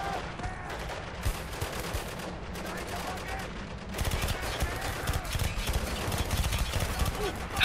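An Uzi submachine gun rattles off sustained automatic bursts in the war shooter Spec Ops: The Line, the rapid shots growing heavier in the second half over a dense battle din with voices mixed in.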